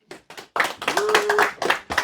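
Audience applause at a French stand-up comedy show comes in short bursts of clapping, then a louder, fuller round of hands with a raised voice or shout on top.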